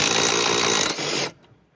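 A power drill with a T45 bit whirs loudly for just over a second while removing seat bolts in a Tesla Cybertruck, then stops abruptly and winds down.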